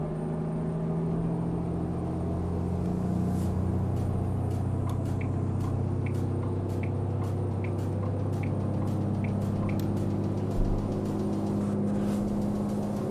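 A 2020 International LT truck in American Truck Simulator idles and drives with a constant low diesel engine drone, joined midway by a series of faint, evenly spaced clicks, with no talking.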